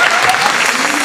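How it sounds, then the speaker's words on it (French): Dense, steady applause from an audience at an evening celebration, just before a stage show begins; loud and continuous throughout with no break. "On l'applaudit très fort."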